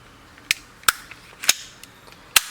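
Five sharp metallic clacks as a BB gun slide with a stiffened recoil spring is racked, spaced irregularly, crisp and close, with quiet gaps between them and no voices.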